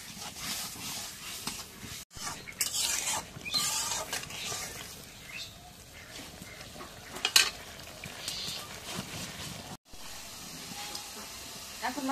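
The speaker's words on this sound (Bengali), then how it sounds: "মশলা একটু নাড়া দিয়ে দিই।" Onion, cumin and garlic paste sizzle in a pan while being stirred, with irregular scraping and spluttering bursts over a low frying hiss.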